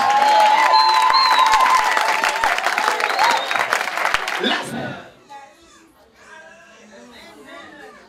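A church congregation applauds and cheers loudly for about five seconds with whoops and voices mixed in, then the clapping drops away, leaving quieter chatter and talking.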